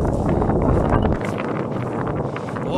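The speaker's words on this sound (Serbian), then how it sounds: "Ovde vetar baš šiba" Strong wind gusts across an open grassy mountainside at about 1,789 metres, roaring loudly and buffeting the microphone with deep, continuous rumbling, easing slightly after the first second.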